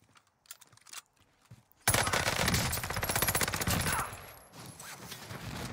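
Cooper Carbine SMG gunfire in the Warzone video game: after a couple of seconds of faint clicking, a loud sustained automatic burst erupts, rattling rapidly for about two seconds before continuing slightly quieter.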